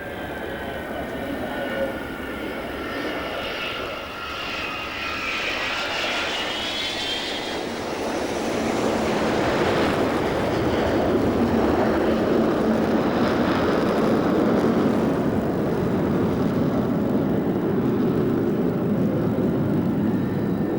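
The last flying Avro Vulcan bomber passes overhead at a 1990 Battle of Britain air display. A whining jet note is followed by a deep, broad roar that swells louder and holds steady.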